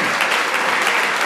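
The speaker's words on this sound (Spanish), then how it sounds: "Más fuerte ese aplauso." A concert audience at a twentieth-anniversary jazz show applauds, with brief, loud, dense clapping.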